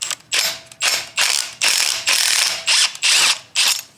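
An impact wrench is run in reverse to back out engine studs on a Honda Civic EK. It gives close, loud ratcheting bursts, about eight in a row with short pauses between them, and no voices.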